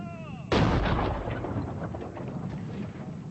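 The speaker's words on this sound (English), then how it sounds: "British artillery pounded Boer positions in the hills around the besieged towns" British artillery in the Boer War bombards Boer positions in the hills: a single loud, booming blast that rolls out and rumbles away over several seconds.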